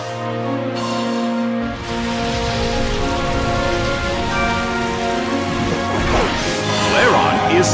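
Pouring rain in the Colosseum of the video game Pokémon Battle Revolution, a constant hiss of downpour laid over steady game music, with a few sharp hits and a commentator's voice.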